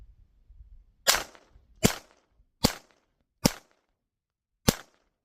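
Five sharp, crisp gunshots from a Ruger .22 Mark IV bull barrel pistol ring out outdoors at a target about 20 yards away, fired at an uneven pace with short quiet gaps between each crack.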